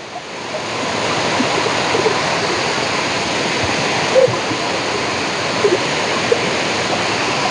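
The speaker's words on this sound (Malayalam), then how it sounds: "ഇവിടെ അരുവിക്കയിൽ ഈ വെള്ളച്ചാട്ടം ഉള്ള കാര്യമൊന്നുവേ" Water pours steadily over the Aruvikkayam waterfall in Kottayam district, Kerala, producing a loud, constant roar with a few small splashes, heard up close.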